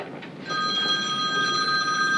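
A telephone rings in a city council meeting room, a sustained electronic ringing tone that starts abruptly and continues loudly over faint room noise.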